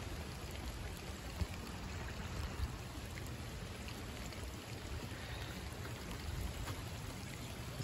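Runoff water flowing down a driveway and spilling over an erosion-control water bar, a steady, continuous wash of trickling and pouring at moderate distance with no voices.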